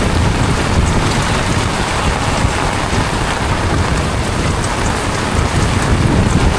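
Steady heavy rain pours down at night during a fishing outing for matamba or buraw, a dense loud hiss with low rumble throughout and no speech.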